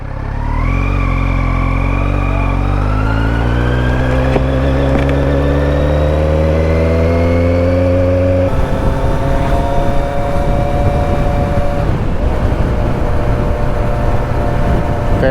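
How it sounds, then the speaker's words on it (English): Kawasaki Z900 sport motorcycle ridden two-up accelerates hard, its engine note climbing steadily through the gears with a shift near the middle, loud and close with continuous wind rush and no talking. "This bike loves accelerating."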